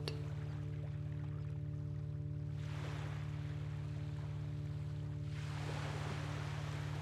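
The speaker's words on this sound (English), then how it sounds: "Noticing the water ebb and flow, in and out." Sea waves washing onto a shore, two soft surges of rushing water that swell and fade over a constant low hum, faint and distant with no voices.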